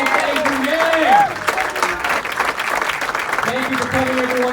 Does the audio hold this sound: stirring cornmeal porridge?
no